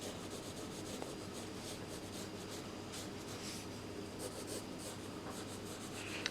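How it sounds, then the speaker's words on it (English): Pencil scratching lines onto paper while sketching a figure, a steady close rubbing texture with soft strokes running continuously, no voices. "So I drew a line"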